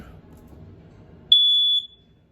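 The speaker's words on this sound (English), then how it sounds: "Smoke detectors right above the slide here." A single shrill electronic beep from a smoke alarm in a 2018 Crusader 26RE RV, sharp and steady for about half a second, following a low murmur of background noise.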